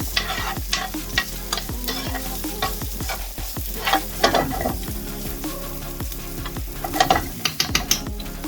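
Onions sizzle steadily in a pan while being softened for chicken xacutti, with repeated scraping stirs of a utensil and occasional clinks over the frying.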